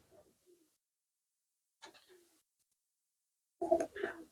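Pigeons in a village loft cooing softly in short separate calls with long quiet gaps, the last coos fuller and closer.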